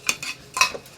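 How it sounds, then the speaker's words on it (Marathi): Rice is stirred around a kadhai for khichdi, giving three quick scraping strokes of spoon against pan, close and fairly loud, with short pauses between them. "तांदूळ टाकल्यावर हलवते एकदा सगळीकडे"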